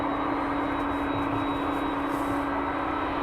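A jet airliner approaches East Midlands Airport at night, a steady broadband roar with a faint high whine holding level throughout, moderately distant, with no talking.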